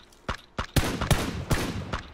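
Full-auto rifle fire in a PUBG match, with several loud, close bursts in quick succession and brief gaps between them, and no talking.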